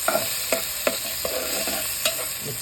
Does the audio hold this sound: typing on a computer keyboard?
no